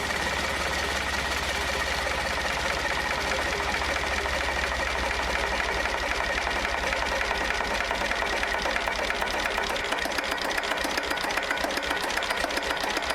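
An antique JP3 slow-speed diesel engine with mechanical fuel injection runs steadily, giving a loud, continuous rapid mechanical clatter and thrum with no talk.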